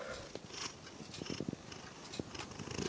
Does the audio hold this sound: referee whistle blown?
no